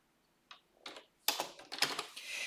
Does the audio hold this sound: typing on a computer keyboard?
yes